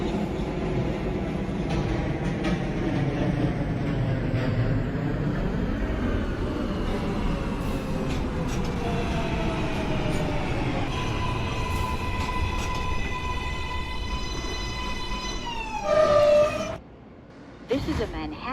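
Computer-simulated NYC Subway R143 J local train running for a long stretch, a steady rumbling ride with rising motor whine and tonal squeals, ending in a brief burst and drop near the end.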